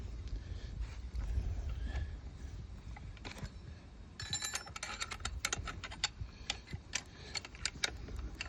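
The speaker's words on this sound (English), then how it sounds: "I'm going to break those with the scrunch, just so I get a feel for them" A scrench, a combination screwdriver and wrench, loosens the muffler bolts on a chainsaw, making quiet, close, irregular clicks and ticks that come faster and sharper in the second half.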